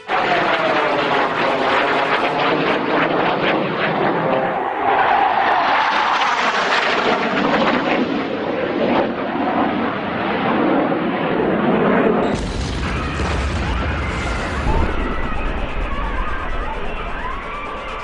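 A loud, sustained aircraft roar builds, then the plane crashes onto a parked aircraft on the ground, giving way to a harsh explosive blast and rumbling noise, with some voices mixed in.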